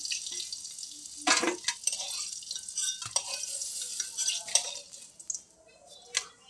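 Fried eggplant slices are lifted out of a pan with a utensil, giving a few close scrapes and clinks against the metal over a faint background sizzle.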